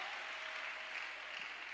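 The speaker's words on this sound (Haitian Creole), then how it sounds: "Est-ce qu'on applaudit plus fort encore?" A church congregation applauds in a steady, even wash of clapping, heard faint and somewhat distant throughout, with no distinct voices over it.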